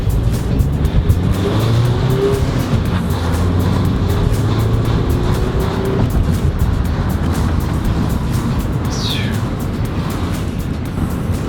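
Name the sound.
Mazda 5 MPV accelerating hard from a pull-out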